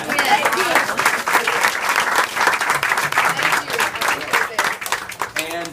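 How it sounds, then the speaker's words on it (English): A round of applause fills an open house gathering, dense and sustained clapping from a crowd that carries on for several seconds with a few voices mixed in. "Round of applause for that."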